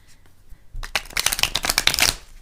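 Stiff tarot cards riffle and slap together in a quick, crackling burst that builds louder over about two seconds, close up, with no talking.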